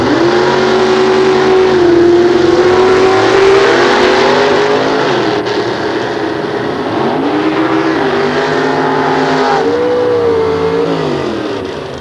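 A Willys drag car with a 468-inch big block Chevrolet at a nostalgia drag race roars loudly and close, its engine note holding steady and then rising and dipping through gear changes as it pulls away.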